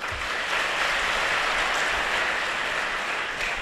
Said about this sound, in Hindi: तो बिटिया के लिए भी तालियां